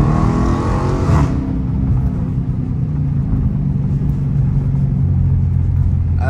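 A Dodge Challenger R/T in track mode roars loudly and steadily up close, its deep engine rumble building under hard acceleration with a sharp rev burst at the start, no talking.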